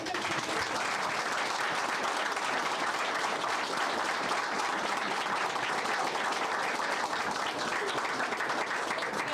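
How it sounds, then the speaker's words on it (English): A school board meeting audience applauds the high school bowling team with sustained, even clapping from many hands, a dense continuous patter lasting about nine seconds without voices on top. "And I am going to stand up and I'm going to applaud you."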